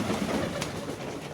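Pigeons coo softly and continuously during an evening feeding outdoors in freezing winter weather, a steady low murmur of several birds close by with no talk.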